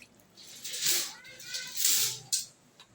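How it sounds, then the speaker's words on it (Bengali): Water rinsed from a bowl is poured into chicken cooking in a pan for Bengali mustard chicken, giving two soft hissing, splashing bursts a second apart. No one speaks. "এবার আমি এই বাটি ধোয়া জলটাও চিকেনের মধ্যে দিয়ে দিলাম।"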